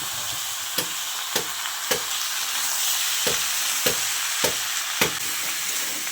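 Bottle gourd stir-fried in a pan with dried red chilli, bay leaf and cumin, giving a steady close sizzle with sharp periodic scraping strokes about every half second, no voices.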